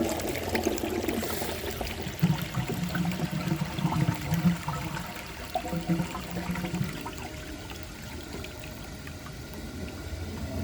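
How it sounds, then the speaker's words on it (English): A 1990 Universal-Rundle Atlas toilet flushing: a steady rushing, gurgling wash of water that continues across the whole stretch, close and moderately loud, slowly easing toward the end. "I'm going to give this another flush and see if by some odd miracle it can take this"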